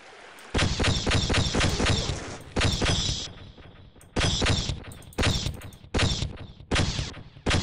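Loud, close gunfire in Half-Life 1: rapid bursts of shots in quick succession, with short pauses between volleys and no talking over them.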